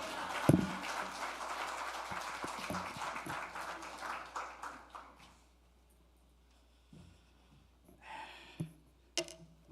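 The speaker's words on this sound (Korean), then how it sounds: "우리 강사 목사님 우리 큰 박수로 할렐루야로 인사하면서 환영하겠습니다" Congregation in a Korean church giving a loud round of applause to welcome a guest pastor, dense clapping for about five seconds that fades out, then a few scattered sounds.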